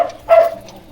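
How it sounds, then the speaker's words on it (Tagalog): A dog barks once or twice, fairly close, in a short burst with a lingering tonal whine, outdoors during a search for a house. "May aso, may aso!"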